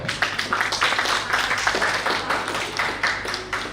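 Sustained applause and clapping from a conference audience welcoming a speaker to the stage, a steady dense patter of many hands lasting throughout without letting up.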